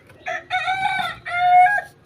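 A rooster crows once, close and loud, its call rising in a few strained bursts before tapering off.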